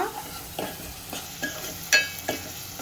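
A spoon stirring chili powder into a sizzling pan of taro root curry, several soft scraping strokes at a steady rhythm over a low frying hiss, close by with no talk.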